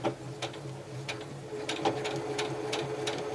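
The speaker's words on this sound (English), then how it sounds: "if the auto lock is there, it will automatically do a couple of stitches to lock them in place" A sewing machine runs an automatic locking stitch on scrap fabric, a close series of quick, evenly spaced mechanical ticks and thumps over a light motor whir.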